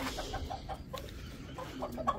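Chickens clucking inside a cage, several birds giving short, overlapping clucks in a steady, close, moderately loud stream with a little background noise.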